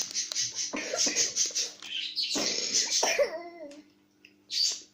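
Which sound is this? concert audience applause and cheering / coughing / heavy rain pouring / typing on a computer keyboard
coughing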